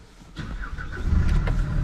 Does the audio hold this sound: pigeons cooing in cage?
no